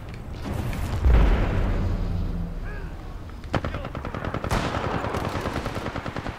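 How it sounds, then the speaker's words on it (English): Rapid automatic gunfire from a pilot in the video game Titanfall 2, with bursts of repeated shots and mechanical clatter over a busy game soundscape. "I hear a pilot"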